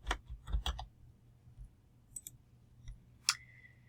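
Keys on a computer keyboard clatter in short bursts of quick clicks separated by pauses, close and fairly faint in a quiet room, with one sharper click near the end.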